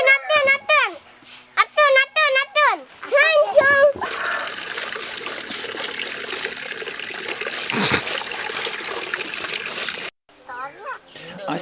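Hand washing of laundry with water splashing and trickling in a steady, continuous wash that runs for several seconds. A voice chatters before and after.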